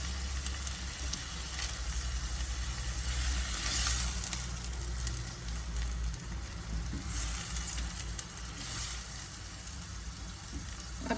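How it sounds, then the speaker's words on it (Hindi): Minced beef fries in a pan with a steady, close sizzle and crackle that runs unbroken throughout, with occasional stirring scrapes and no talking. "ये मेरे को भूनना है थोड़ी देर ताकि इसका कलर वाइट हो जाए।"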